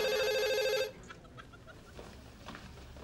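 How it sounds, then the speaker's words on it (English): An office telephone's other line rings loudly for under a second with a bright electronic trill, then cuts off, leaving faint room noise and soft distant sounds. "Oh, your other line is ringing."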